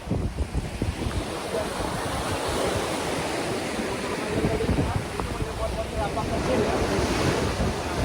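Ocean waves break on a shore in a constant heavy roar mixed with strong wind buffeting the microphone, loud and unbroken throughout, with a voice faintly present beneath.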